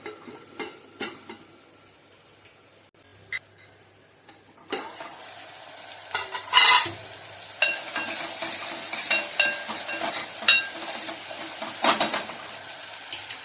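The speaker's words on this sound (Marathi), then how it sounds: "थोडंसं मीठ टाकणार आहे म्हणजे कांदा आणि टॅमॅटो लगेचच शिजेल" Onion and tomato with salt cook in a pan: quiet at first with scattered clinks, then a louder close sizzle begins partway through, marked by repeated spoon scrapes and knocks against the pan.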